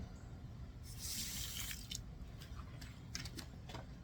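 Water poured and trickling into a cement mix for bonsai pots, a soft splashing burst followed by scattered drips and small wet squishes, close and fairly quiet over low background rumble.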